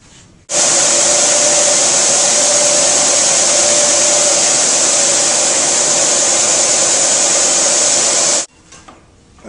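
A belt sander grinds steadily against a piece of wood for a cupcake box, a loud continuous whine running about eight seconds at full power before cutting off abruptly.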